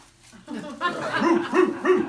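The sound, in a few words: voice imitating dog barking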